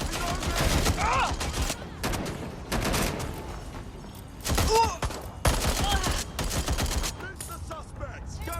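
Bursts of automatic suppressive gunfire crackle in the video game Watch Dogs: Legion, loud, close rapid volleys broken by short pauses, with grunts and shouted voices mixed in between shots.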